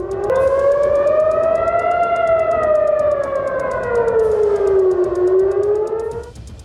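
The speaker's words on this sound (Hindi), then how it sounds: "इजराइल को कई बार एयर सायरन तक बजाना पड़ा है" An air raid siren in Israel wails loudly during attacks, its tone rising slowly then falling and rising again in a long, continuous sweep.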